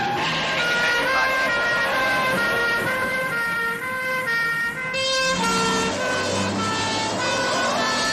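Police vehicle siren wailing loudly and steadily close by, its rising and falling tones sustained for several seconds with traffic rumble beneath, in a drama scene at a besieged police station.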